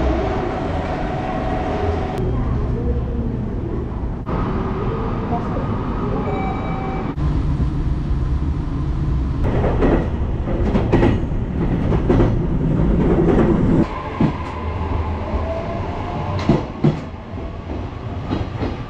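A train ride in Japan, a roughly thirty-minute electric rail trip in the Fukuoka area, with steady rumbling wheel and car noise throughout, some shifts in intensity and brief clatter, no talking.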